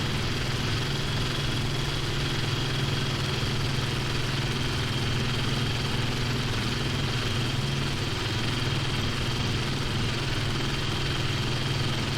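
A fighter plane's piston engine, overheating in the IL-2 flight game, drones steadily with a constant low rumble and whine. It holds an even level throughout with no talking.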